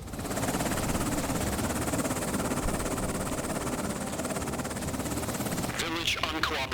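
Helicopter in the war game Afghanistan '11, a steady loud rotor and engine drone running continuously, with a brief burst of radio-style chatter near the end.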